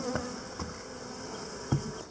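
Honey bees buzz in a steady, close drone around full honey frames lifted from a hive during a harvest, with a few brief louder passes flaring over the constant hum.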